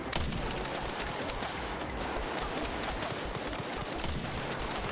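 Rapid gunfire striking a wall in the survival horror video game Resident Evil Requiem, a dense, continuous barrage of loud shots and impacts with no pauses.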